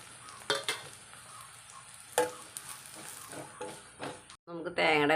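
A spoon stirs spice powders into coconut milk curry in a pan, giving soft scraping and light sizzling with a few sharper clinks, fairly quiet, with a voice near the end.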